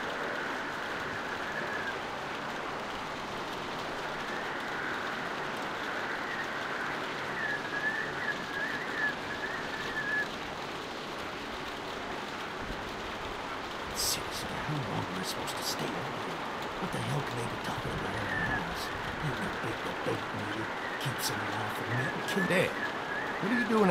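Steady rain patters across a wide area outside a barn in a video game, with occasional nearby drips and scattered voices talking beneath the downpour.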